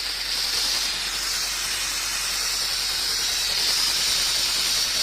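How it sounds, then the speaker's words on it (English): Brake cleaner aerosol sprayed onto front brake parts of a 2013 Ford Fusion, a continuous loud hissing jet held for the whole stretch without a break, close up and alone. "now you take your brake clean again and clean this thing real good"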